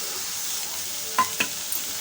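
Green chilies and ginger sauté in a pan for a South Indian side dish, a faint steady sizzle with a couple of quick stirring scrapes near the end.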